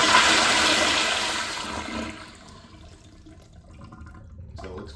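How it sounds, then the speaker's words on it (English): A toilet with a Sloan flush valve and a leaking vacuum breaker flushes up close. It starts as a loud rushing surge of water, then after about two seconds fades to a softer, steady trickle running down the pipe. "during a flush, we get water running down the pipe"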